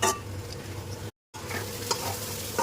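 Pabda fish roe frying in oil in a pan, a steady close sizzle with occasional stirring scrapes, briefly cut off midway by a gap of silence.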